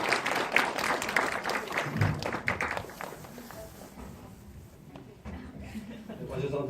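An audience at a film screening talk welcomes the actors with applause that starts fairly strong and thins out over several seconds, mixed with shuffling footsteps and some talk in the room.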